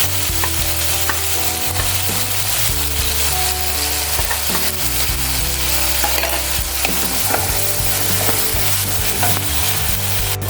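Spices with Kashmiri red chilli powder fry and sizzle loudly in oil in a pan for a shol fish curry, with steady crackling and repeated stirring scrapes and no voices.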